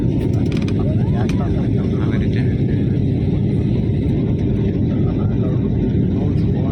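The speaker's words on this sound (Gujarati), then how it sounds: "વાદળા ઉડી રહ્યા છે મિત્રો તેના પર આપણું વિમાન ઉડી રહ્યું છે" A passenger airplane flies above the clouds over Ahmedabad, heard as a steady, loud, low cabin roar with no break, and a voice speaks faintly over it.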